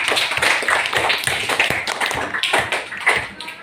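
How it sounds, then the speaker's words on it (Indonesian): A classroom of students clapping together at the end of a lesson, uneven rhythmic claps close by, mixed with voices and some chatter. "sekarang tepuk tangan untuk kita semua"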